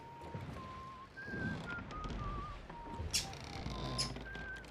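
Birds whistle and chirp in the Sea of Thieves video game, a series of thin, short tonal calls and trills repeating over several seconds above a low, murky background.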